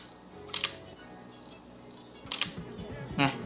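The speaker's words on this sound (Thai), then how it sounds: "โอเคลองฟังเสียงโฟกัสดูนะครับ" Several brief whirring bursts from a Canon EOS R camera's autofocus motor, short mechanical buzzes spaced a second or two apart, close and fairly quiet.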